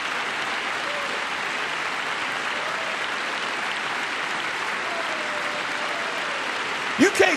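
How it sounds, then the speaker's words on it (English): A large audience at a speech before Congress applauds steadily throughout, a dense continuous roar of clapping and cheering, with a brief louder bump at the end. "You can't clap for that."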